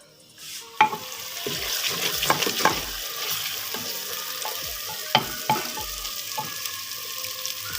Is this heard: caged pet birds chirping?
no